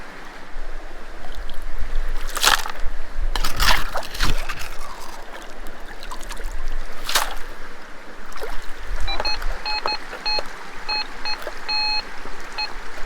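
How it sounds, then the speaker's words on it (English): Dirt is swirled in a gold pan of water while prospecting outdoors, giving uneven splashing and sloshing bursts against a steady watery background, followed near the end by a run of quick electronic beeps. "I'm just gonna dig it up, put it in my pan, and pan it out."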